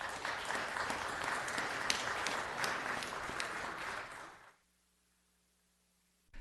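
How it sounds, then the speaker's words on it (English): Crowd applause at a city council meeting, a dense, even clatter of clapping for about four seconds that fades out abruptly into near silence. "let's give him one more round of applause."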